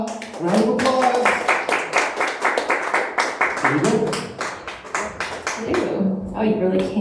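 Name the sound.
audience applause for an open mic performer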